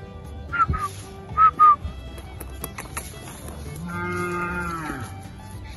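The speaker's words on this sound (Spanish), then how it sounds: "Ternero, girolando." A Girolando calf moos nearby, a few short calls followed by a longer drawn-out bellow, with faint background noise around it.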